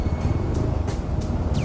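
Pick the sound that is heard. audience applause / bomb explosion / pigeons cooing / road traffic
road traffic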